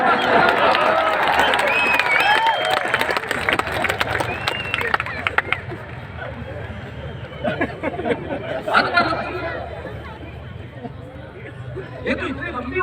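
An audience at a Hindi poetry gathering in Nagpur claps in a dense burst that fades into crowd chatter and scattered voices.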